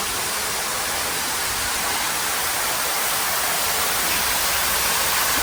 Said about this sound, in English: you get to this pretty waterfall here